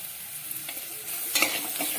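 Onion tipped into a pan of frying green chillies and peanuts for poha, hissing steadily while a spoon scrapes and stirs, with a brief louder burst of sizzle partway through; no voices.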